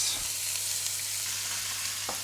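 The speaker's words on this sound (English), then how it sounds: "while that beef's cooking" Minced beef sizzles steadily in a pan, one of two pans holding about two kilos of mince being cooked for meal prep; a constant close frying hiss with faint clinks and no talking.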